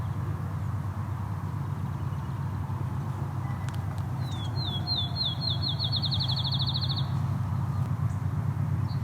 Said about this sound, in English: Field sparrow, very loud.